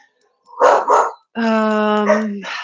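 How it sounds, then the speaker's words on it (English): A pet dog barks indoors in two quick loud bursts, followed by a long sustained whining howl that rises and trails off, with no talk over it. "Just wait for my dog to settle."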